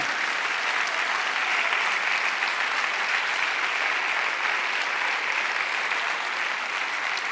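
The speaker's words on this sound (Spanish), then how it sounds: "¿No le dan un aplauso al Señor?" Sustained applause from a church congregation fills the space, a dense, steady wash of clapping holding at even loudness throughout with no voices over it.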